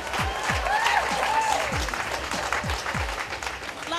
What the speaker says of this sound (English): I want a big round of applause for our fabulous Australian designers.